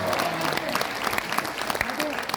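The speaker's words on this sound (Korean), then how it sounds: "수고하신 오성국 박사님께도 감사의 박수를 보내주시기 바랍니다" Audience at a press center rally clapping in a brisk round of applause, dense and moderately distant, with a voice speaking over it.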